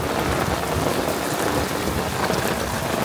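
Rain falls on a rooftop garden, a dense, even hiss of drops spattering on surfaces that continues without a break.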